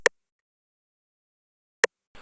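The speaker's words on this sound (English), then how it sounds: "And then a rim, which sounds like this." Two sharp, woody rim-shot sample clicks separated by a long silence, each short and dry with no ringing tail, from a hip-hop beat made in FL Studio.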